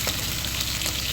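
Onion frying in a pan for a Filipino pechay sauté, a loud continuous sizzle of hot oil close up with no pauses.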